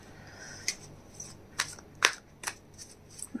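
Tarot cards handled and laid down on a surface, a few soft, close papery flicks and slaps spaced irregularly in a quiet room.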